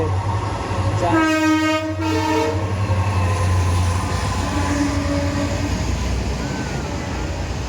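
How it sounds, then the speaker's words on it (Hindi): Train arriving at Khalilabad station sounds a loud horn blast of about a second, over a constant rumble and clatter of rolling wagons nearby. "हमारे पीछे एक और ट्रेन आ रही है, एक ट्रेन और आ रही होगी।"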